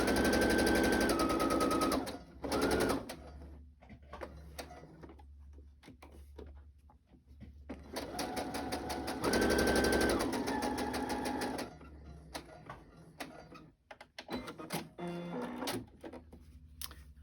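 A sewing machine stitches around fabric for fabric flips in several bursts. The long runs of rapid, even clatter are close and fairly loud, separated by quiet pauses, with a few short stitching spurts near the end.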